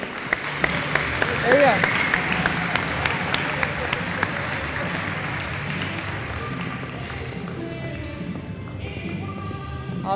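Audience applause for a high school golf team at a spring sports awards ceremony, a steady dense clapping through the whole stretch while a voice speaks briefly near the start.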